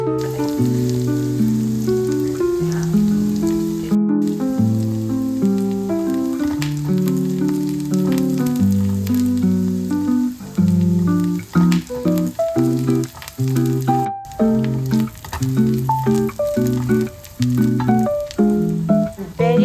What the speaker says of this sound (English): On another pan, add in some coconut oil. Once the oil is hot, add in some garlic, spring onion, red chilies and curry leaf.